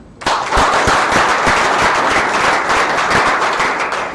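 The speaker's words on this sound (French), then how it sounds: "Et je pense qu'on peut les applaudir." Loud, dense applause from an audience at a live startup pitch event fills the space, a sustained burst of many hands clapping that starts abruptly and holds steady.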